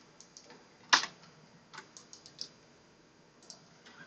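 Scattered clicks from keys being pressed on a computer keyboard, an irregular string of light taps with one sharper knock, close and fairly quiet in a hushed room.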